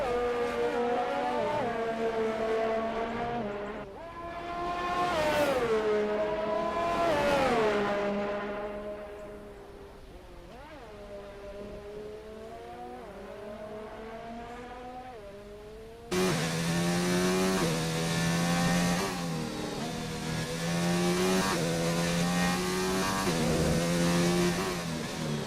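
Two Ferrari race cars accelerate onto the track, engines whining up through the gears in rising, falling sweeps, loud and near, with a second, louder car joining partway through and revving hard.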